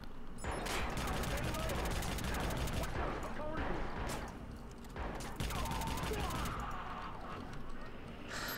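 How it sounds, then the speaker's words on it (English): Rapid, continuous automatic shotgun fire in the video game Watch Dogs, loud and dense blasts running almost nonstop with a brief lull midway, mixed with game action noise. "I need to use the ultimate weapon, aka the fully auto shotgun."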